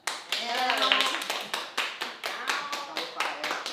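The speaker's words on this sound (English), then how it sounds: "if you ain't clapping, you too young" A live audience claps at an event as an act is introduced, with sharp rhythmic claps under voices and cheering, the claps loud and steady throughout.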